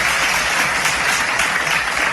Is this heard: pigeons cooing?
no